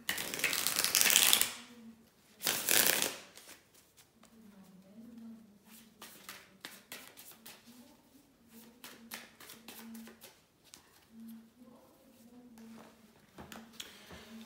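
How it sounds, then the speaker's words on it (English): Tarot cards are shuffled: two loud riffling bursts open, then a run of soft, rapid card taps and flicks, with a quiet low hum under them. "bear with me a second, guys, to shuffle the tarot cards"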